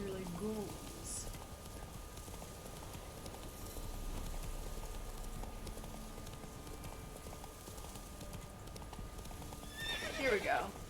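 Roach the horse in The Witcher 3 clip-clops at a gallop and whinnies, hoofbeats steady beneath game noise, with a sharper neigh near the end.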